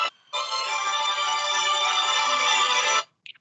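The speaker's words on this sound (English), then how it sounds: "Whatever's phone that is a lovely ringtone" A phone ringtone goes off during a committee meeting video call, a loud steady melodic tone lasting about three seconds before cutting off abruptly, with a brief faint chirp after.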